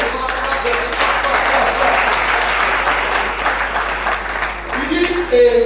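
Conference audience bursting into steady applause, dense clapping throughout with a voice returning near the end.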